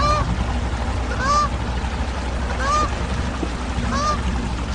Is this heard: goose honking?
yes